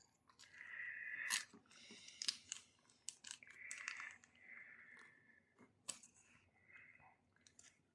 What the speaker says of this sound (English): He's chewing.